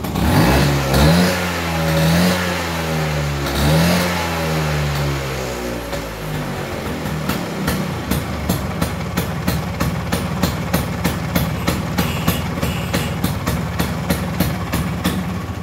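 A 1970 Vespa GT 125 scooter with an aftermarket exhaust revs in several rising and falling swells, then settles into a loud, rapid, knocking idle.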